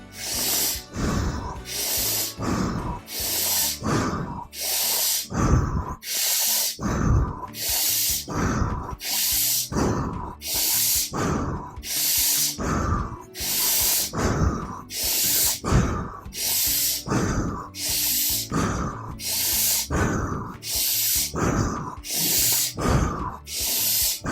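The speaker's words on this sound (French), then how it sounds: "inspire pour 2, expire pour 2" A guided breathing exercise with inhales and exhales in counts of two: close, loud, airy breaths in a steady, even rhythm, about twenty cycles in a row, with no talking.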